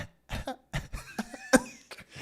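A person gives a strange, pitched cough, one of several short bursts of throat sound separated by brief gaps, close and fairly loud.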